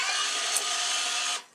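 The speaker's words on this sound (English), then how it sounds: "I'm now pulling tension on the second main on the right side of the racket" A tennis racket stringing machine pulls tension on a main string, making a single steady mechanical whir close by that cuts off abruptly.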